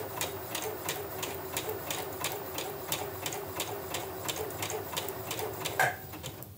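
A domestic sewing machine stitching backwards over fabric for a few reverse stitches on a bag appliqué, a steady rapid needle clatter running close and continuous throughout, with a brief click near the end.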